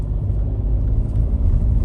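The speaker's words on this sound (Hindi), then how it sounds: "ऑल्टो माशाल्लाह बहुत अच्छा जा रही है।" Suzuki Alto 660cc small car climbing uphill on a rough mountain road toward Lowari Pass, a steady low engine drone and road rumble close up, with no talk.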